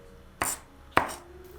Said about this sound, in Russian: Можно дополнительно порубить ножом, чтобы лук был достаточно мелкий